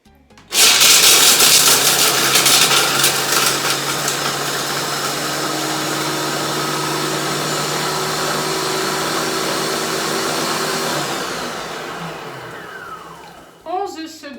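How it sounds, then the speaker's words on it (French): A food processor runs at maximum power, grinding sugar into icing sugar: a loud, steady whirring roar that starts abruptly and holds for about thirteen seconds, then winds down with a falling pitch before a brief clatter. "Et donc là, attention, ça va faire du bruit. Donc je vais mixer puissance maximum."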